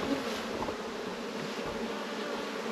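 Dense buzzing of many honey bees packed into stacked hive boxes, a steady close hum that holds without a break for the whole stretch, with no voices.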